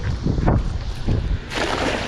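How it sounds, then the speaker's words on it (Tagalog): A headwind blows over a boat at sea, giving rough bursts of wind buffeting against the microphone, with splashing surges and a steady rushing hiss that swells toward the end. "Salubong po yung hangin."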